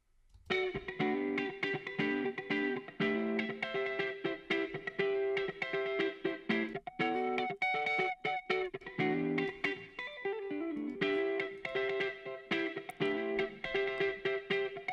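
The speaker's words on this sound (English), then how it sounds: "this is going to be a little bit more of a chorused or flanged reverb effect" Sustained music with a swirling, chorused and flanged reverb wash from a Waves H-Reverb plugin, loud and continuous with brief rhythmic dips throughout.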